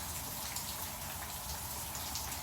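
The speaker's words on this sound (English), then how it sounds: "here they are, watching the rain and staying dry" Rain pours down near a farm porch sheltering llamas, a dense, steady hiss of drops striking surfaces close by, uniform and unbroken with no voices.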